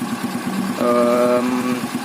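Restored Honda Supra X motorcycle engine, its cylinder already rebored to oversize 100, idling with a steady low putter, then rising into a held rev that stays up for over a second before settling back.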